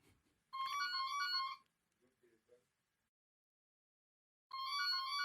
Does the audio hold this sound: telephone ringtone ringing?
yes